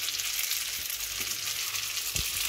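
Spaghetti with garlic, oil, chili and chopped parsley sizzles steadily in a frying pan as it is stirred, a close, continuous hiss broken by a few soft thumps of the utensil.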